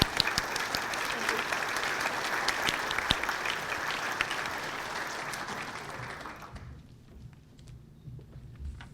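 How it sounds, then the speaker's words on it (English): An audience claps at a monthly society meeting, a dense round of applause that holds steady for several seconds before tapering off to quiet room noise. "Let's give him a great round of applause."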